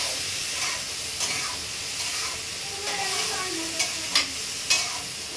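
Garam masala frying with onions in a pan, a steady close sizzle with intermittent stirring scrapes and a few sharper clinks toward the end, no talking.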